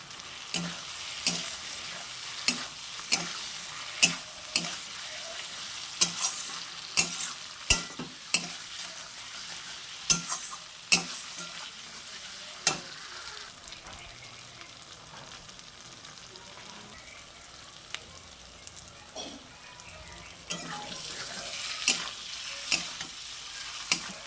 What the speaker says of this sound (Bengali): এবার আমি যে পটলগুলো ভেজে রেখেছিলাম সেই পটলগুলোকে এতে দিয়ে দেবো, দিয়ে ভালো করে আবার কষে নেব